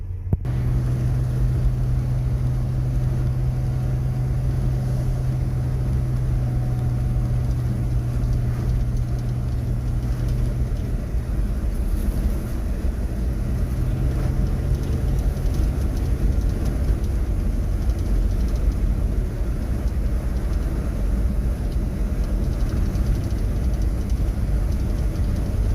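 A car cruises on the road in fourth gear with overdrive engaged, a steady low engine drone with a sustained hum and road rumble that holds unchanged throughout.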